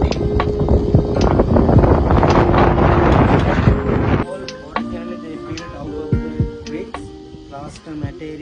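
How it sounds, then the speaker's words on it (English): Strong wind buffets the microphone in loud, rumbling gusts that suddenly drop away, leaving quieter outdoor sounds and faint clatter. "it's windy here"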